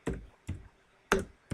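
Computer keyboard being typed on in short bursts: four separate clusters of quick, close key clicks with brief silent gaps between them, with no talking.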